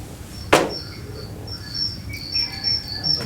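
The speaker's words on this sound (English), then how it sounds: "Crickets." Crickets chirp steadily in short repeating pulses, faint and somewhat distant, picked up on an open microphone during a town selectmen's meeting in Woodstock, with a sharp knock near the start and no voices.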